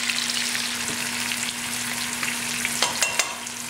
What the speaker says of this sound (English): Okay, in go the shrimp.